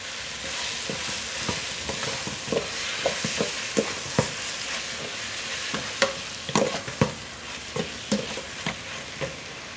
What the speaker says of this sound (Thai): ผัดให้หมูสุกด้วยครับเนี่ย